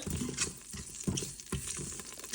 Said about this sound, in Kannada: ಸ್ವಲ್ಪ ಕರ್ಬೇನ್ ಸೊಪ್ಪು ಕೂಡ ಹಾಕ್ತಾ ಇದ್ದೀನಿ ಅಫ್ಕೋರ್ಸ್ ಅದು ಸೈಡಿಗೆ ಹೋಗಿದೆ ಎಣ್ಣೆ ಹಂಗಾಗಿ ಸ್ವಲ್ಪ ಚಿಟ ಚಿಟ ಅನ್ನೋದು ಸೌಂಡ್ ಕೇಳಿಸ್ತಲೇ ಇರ್ಬೋದು ನಿಮಗೆ